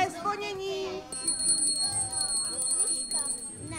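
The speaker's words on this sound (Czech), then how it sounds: "Druhé zvonění." A bell rings continuously before a puppet theatre show, a bright sustained high jingle over children and adults chattering in the audience.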